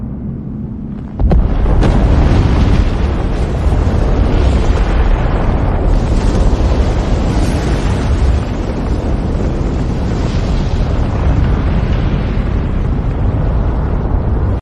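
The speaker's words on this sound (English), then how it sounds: "building all the way up to a complete explosive eruption, lava fountains, ash plumes, pyroclastic flows" An AI-generated volcanic eruption with lava fountains, ash plumes and pyroclastic flows: a sudden deep blast after a quieter opening, then a loud, sustained roaring rumble that continues without letup.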